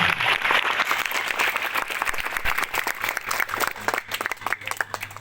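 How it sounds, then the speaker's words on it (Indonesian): An official gathering claps for President Joko Widodo at a governor's aid handover event, loud close applause from many hands, sustained and slightly ragged as it thins toward the end. "Kita tepuk tangan buat Bapak Presiden Joko Widodo."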